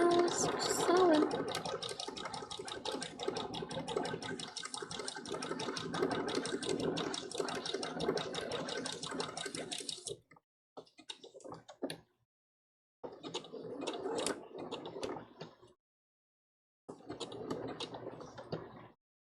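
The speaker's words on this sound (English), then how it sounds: "Just sewing." Sewing machine stitching fabric for a Big Mom One Piece cosplay, a fast rapid mechanical whir running continuously for ten seconds, then several shorter bursts separated by silence.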